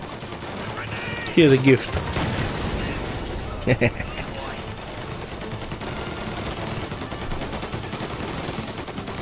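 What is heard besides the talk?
shotgun gunfire in the video game Mafia Definitive Edition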